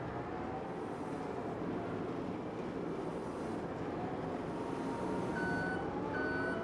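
A harvester in a farming game backs up with faint, repeated reversing beeps, growing clearer near the end over a low, steady engine rumble.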